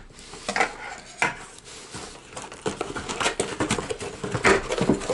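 A knife cutting through heavy tape on a mailed cardboard box, with close, irregular scrapes, taps and crinkling bursts that grow busier toward the end.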